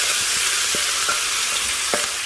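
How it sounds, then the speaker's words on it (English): Beef browns in a preheated, oiled pan over high heat, giving a loud, constant sizzle with a few sharp pops and crackles scattered throughout. "I'm going to start by browning my meat very well"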